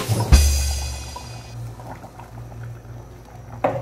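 A pot of menudo with carrots bubbling at a low simmer, with a soft clunk at the start and another near the end.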